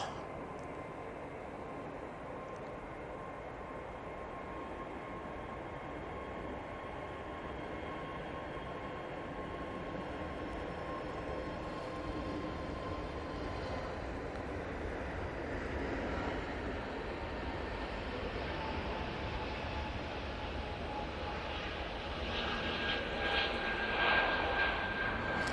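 An EasyJet jet airliner takes off at Manchester Airport as a distant, broad engine roar that slowly builds and swells toward the end, with no talking.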